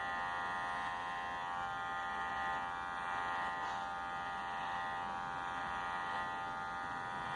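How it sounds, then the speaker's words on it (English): An electric beard trimmer buzzes steadily and close up, holding one even, continuous drone with no pauses and no voices. "You can also use this for a beard trimmer."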